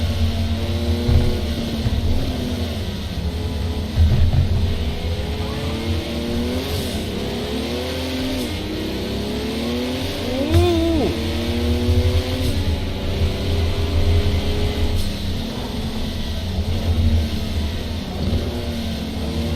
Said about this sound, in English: amazing the turn of speed this Porsche has compared to the other Group 5s.